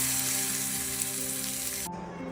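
A hot tempering of chillies and curry leaves hisses loudly as it is poured into tomato chutney, a close, steady sizzle that cuts off sharply near the end, with no voices.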